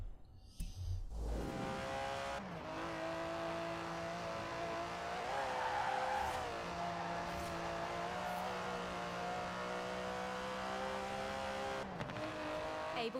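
Aston Martin DB11 with a 5.2-litre twin-turbo V12 in Forza Horizon 4 drives a straight line at a steady, loud high-revving drone with shifting harmonics. Brief tyre noise and a short break come near the start and end.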